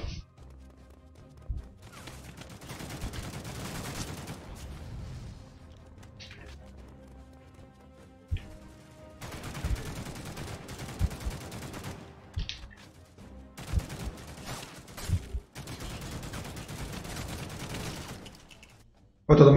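Gunfire rattles through The Mean Greens Plastic Warfare, a toy-soldier shooter on Xbox One, in several long bursts of rapid automatic fire separated by quieter gaps, with a few sharp isolated shots between them.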